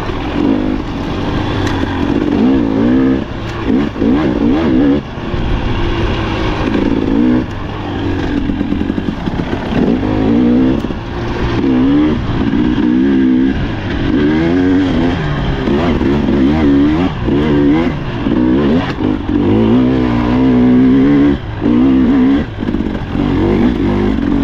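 A 2024 Husqvarna TE 300 Pro dirt bike engine pulling in fourth gear on Michigan single track, loud and close, with a constant buzzing drone that rises and falls with throttle changes plus some clatter, no talking.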